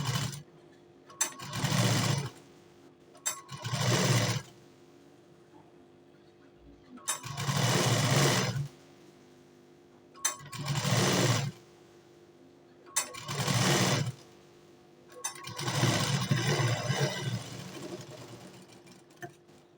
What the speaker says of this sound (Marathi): त्याच्यावरती आपल्याला दाब शिलाई द्यायची आहे.